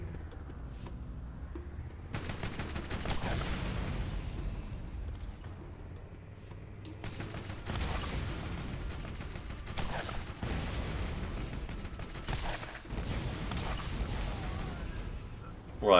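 Enemy gunner firing in Borderlands, bursts of shooting mixed with booms and explosive blasts across a busy game soundscape, moderately loud and continuous.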